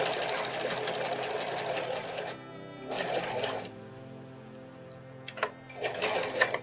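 A sewing machine backstitches a cathedral window quilt block, running in short bursts of rapid stitching separated by pauses, with a few small clicks before the final burst, close and clear.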